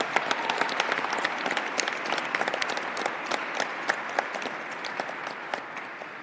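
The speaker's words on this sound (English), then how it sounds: "Can we give a round of applause for all the actors and performers and everyone?" Applause from the audience at the MLK Now 2020 event honoring actors and performers, a full, continuous burst of many hands with sharp individual claps standing out, holding strong before easing slightly.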